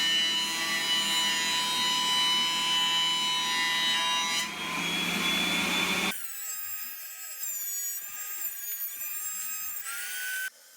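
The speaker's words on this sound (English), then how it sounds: "I cleaned up the old finish on both faces using the thickness planer" A thickness planer strips old finish from the faces of wooden garden seat slats, a loud sustained roaring cut that drops to the machine's lighter whirring hum with shifting tones once the board passes through.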